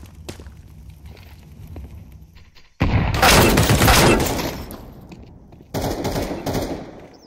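Bursts of rifle fire from a Counter-Strike 2 match on the Ancient map, a loud sustained volley followed by a second burst after a short gap, preceded by quieter footsteps and movement.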